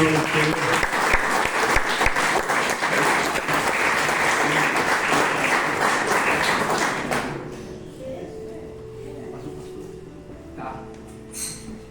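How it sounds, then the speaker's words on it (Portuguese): Church congregation applauding loudly and steadily for about seven seconds, then the clapping fades out, leaving a quieter room with low murmurs and faint scattered sounds. "Dê uma salva de palmas para Jesus"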